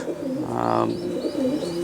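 Racing pigeon giving a single soft, throaty coo up close, a low rolling call lasting under a second against a faint background hum.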